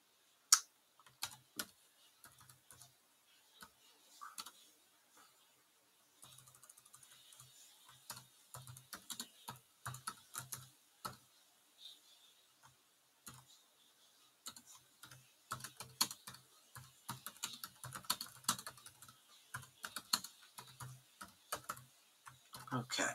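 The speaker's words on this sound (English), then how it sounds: "I'm going to write it in the chat as well." Quiet, close clicking of a computer keyboard as someone types in irregular bursts and pauses, soft keystrokes scattered throughout with no speech.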